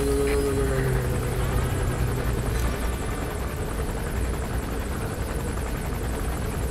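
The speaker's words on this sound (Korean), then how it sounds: "저 헬기는 뭐야?" A helicopter flies in Metal Gear Solid V: The Phantom Pain, its rotor and engine drone holding steady and fairly loud for the whole stretch, with no talking over it.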